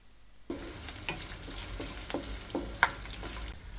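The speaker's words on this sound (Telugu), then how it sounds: "జీలకర్ర వేయాలి." Cumin seeds hit hot oil with a sudden, close sizzle that stays steady, with light crackles and pops, in a pan already holding peanuts and cashews for Karnataka-style vangi bath.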